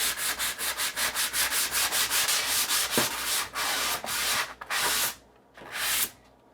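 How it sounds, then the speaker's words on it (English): A fine sanding sponge scrubs dried drywall joint compound on a wall in rapid, rhythmic back-and-forth strokes, close and raspy, then slows into a few longer separate passes with brief pauses between. "So I'm gonna start with the fine sanding sponge."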